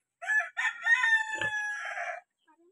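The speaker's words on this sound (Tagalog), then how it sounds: "Daming manok dito ah." Rooster crowing nearby at a rural home in Bicol, one long loud cock-a-doodle-doo that rises and trails off, heard alone with no talk.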